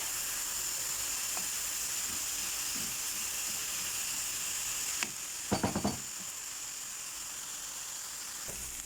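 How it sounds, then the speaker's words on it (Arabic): Onion and red pepper frying in oil in a pan, a steady soft sizzle throughout, with a burst of scraping stirring clatter midway before the even sizzling continues. "خديت مقلاة وعملت فيها الزيت وضفت ليها البصل باش نشحرها شويه"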